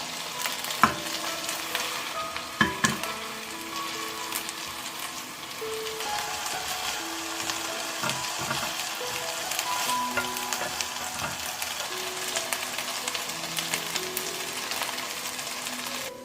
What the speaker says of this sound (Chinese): 我们就小火慢煎